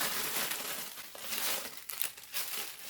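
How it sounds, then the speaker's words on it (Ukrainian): A plastic parcel bag crinkles and rips close by in a series of rustling, crackling bursts as it is torn open. "ось щось таке плоске з дірочкою пакетик. Значить, ми його відірвемо"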